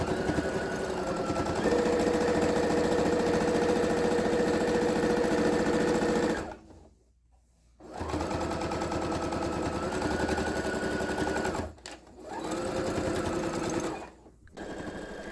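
A sewing machine quilting fabric runs in loud, steady rapid stitching bursts, three long runs separated by short pauses and a brief stop near the end.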